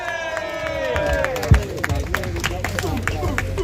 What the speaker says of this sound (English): Everyone give them a round of applause, please.